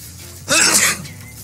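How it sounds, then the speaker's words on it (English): A single abrupt sneeze bursts out close to the microphone, loud and breathy, lasting under half a second before fading back to quiet room tone. "Scared me so hard, I sneezed."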